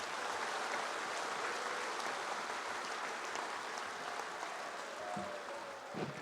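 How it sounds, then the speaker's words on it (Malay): Applause at a UMNO party assembly, a broad steady wash of clapping from a large crowd filling the whole stretch, with a brief tonal sound near the end. "Mari kita beri tepukan kepada semua ketua-ketua UMNO bahagian."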